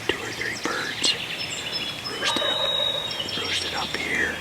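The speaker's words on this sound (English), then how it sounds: "There's a couple more gobbling 400 or 500 yards down here" Wild turkeys gobble from their roost at first light in Wisconsin woods, with several distant gobbles ringing out while someone whispers nearby.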